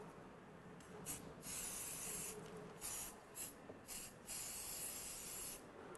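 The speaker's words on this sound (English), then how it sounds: "In the meantime, we're going to spray this mold." Repeated short hissing sprays of release agent from an aerosol can onto a resin casting mold, several bursts of varying length with pauses between, fairly quiet and close.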